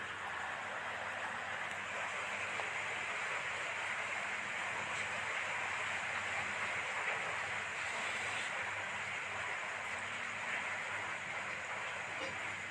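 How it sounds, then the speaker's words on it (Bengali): A steady, broad rushing of wind blowing continuously at an even level, with no voices. "আস্তে আস্তে বড় হাওয়া উঠছে"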